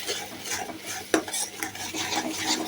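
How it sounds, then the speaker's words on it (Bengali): Spices with a little chili frying in oil in a pan for a pangas fish kofta curry, a soft steady sizzle with scraping stirs and one sharp utensil clack against the pan, fairly quiet and close. "এখন এগুলো একটু ভেজে নেব ভালো করে, কাঁচা কাঁচা গন্ধটা যেন চলে যায়।"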